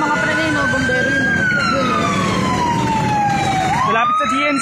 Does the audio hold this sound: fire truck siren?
yes